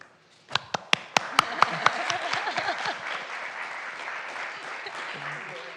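Audience applause at a city council meeting, opening with a few sharp individual claps that quickly swell into a dense round of clapping from a room full of people, then continuing steadily.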